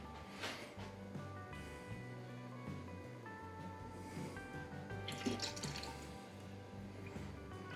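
Pear cider is dumped out in a soft liquid pour with gentle splashing and dripping, quiet and continuous alongside faint tonal background music.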